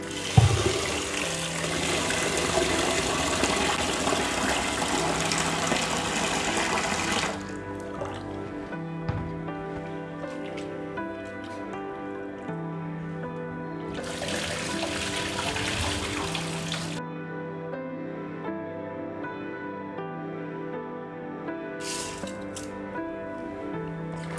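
Rice soaking in water is rinsed for akki dosa, with vigorous splashing and sloshing for the first seven seconds, then quieter with a tonal background hum, and a second brief burst of swishing water midway.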